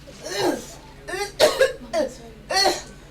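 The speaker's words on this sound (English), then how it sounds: "Is that why she's been coughing?" A few short, harsh coughs come in quick bursts, mixed in with a voice speaking close by.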